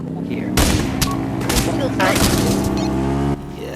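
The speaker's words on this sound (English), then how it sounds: "you probably should try and refrain from shooting your teammates" Shots crack out in a VR shooting game, several loud bursts in quick succession over a steady humming background, with someone talking through them.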